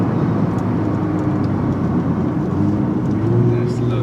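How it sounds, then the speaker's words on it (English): A Nissan GT-R's turbocharged engine rumbling steadily from inside the cabin while driving, loud and continuous with a deep drone, and speech-like sound mixed in. "that turbo sound is just"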